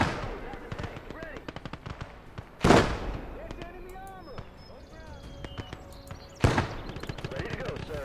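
Heavy .50 caliber machine guns fire in a World War II video game battle, with rapid bursts and two loud explosive blasts over constant battlefield clatter while voices call out.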